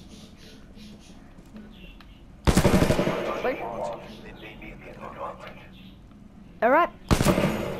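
Gunfire in Titanfall 2 training, with two sharp bursts of rapid automatic shots and a shorter burst near the end separated by quieter game sounds and electronic chirps, while someone talks briefly.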